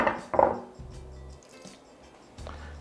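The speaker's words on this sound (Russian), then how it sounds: "И перемешиваем вот так." Grated celery root salad stirred with a little lemon juice gives soft, wet squishes and light clicks in a few short strokes, quiet and close.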